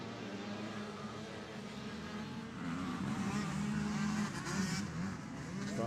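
A pack of women's-class motocross bikes fires off the start line at a speedway track, engines swelling into a loud, dense revving roar that builds midway and holds, heard from a short distance without talk.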